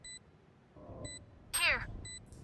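Short repeated electronic beeps of a planted spike in a tactical shooter video game, faint and evenly spaced, with a brief voice and chirping sound in between.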